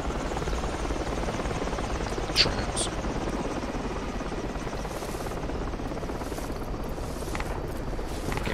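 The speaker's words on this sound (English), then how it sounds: "Northwest enemy helicopter." An enemy helicopter flies overhead in the military video game Project Reality, its rotor chop forming a steady, dense drone throughout, with a brief sharp click and a spoken word over it.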